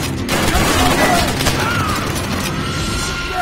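Machine gun fire and battlefield noise in the video game Call of Duty: World at War, loud and continuous with booming blasts mixed in, while a voice talks over the combat.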